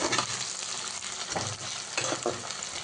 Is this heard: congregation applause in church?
no